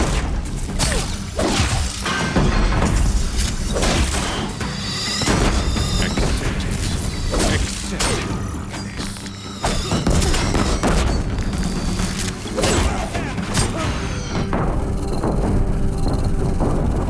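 Deathbringer war machines in Horizon Zero Dawn firing on a bridge, giving repeated heavy booms, crashes and rapid blasts in dense bursts, loud and close throughout.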